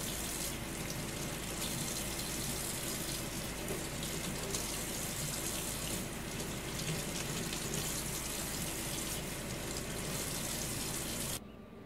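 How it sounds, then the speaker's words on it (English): Tap water runs steadily in a kitchen sink while soaked eggplants are drained and rinsed, a constant close rushing gush with no talk that cuts off abruptly at the end. "now we are just gonna drain the water and wash the eggplants."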